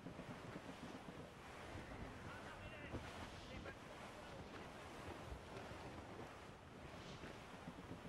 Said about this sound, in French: Ce vent ne me dit rien qui vaille